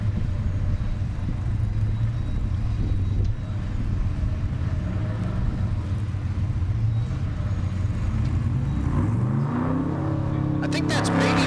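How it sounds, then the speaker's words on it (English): A drag racing car does a burnout at the SRCA Dragstrip in Great Bend, Kansas, clearing carbon from its pipes. A loud, continuous engine roar fills the air, ending in a rising rev. "Nick's burning out all the carbon and stuff out of the pipes. And doing a bit of a burnout in the meantime."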